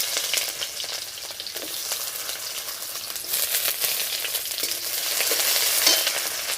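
Chopped onion fries in hot mustard oil, giving a loud, continuous close sizzle and crackle with occasional stirring scrapes, no voices.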